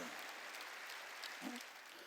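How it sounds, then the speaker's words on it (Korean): A church congregation clapping their hands together during a sermon, a steady wash of many hands applauding with a faint voice rising briefly above it. "박수로 하나님께 영광"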